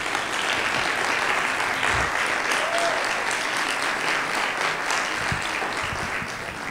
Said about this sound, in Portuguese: Quero pedir uma enorme salva de palmas à Lara Franco e à Ana Loureiro